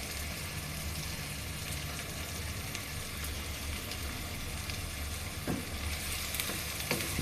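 Onions fry in oil in a pan, giving a steady, moderately loud sizzle throughout, with a couple of light clinks and stirs toward the end.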